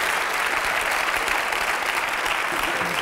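Loud, dense applause from a theatre audience at a comedy show, continuous clapping from a large crowd with no break.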